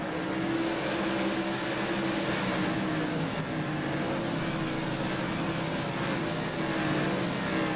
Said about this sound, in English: Richie looking for any way past Choate, hasn't found a move yet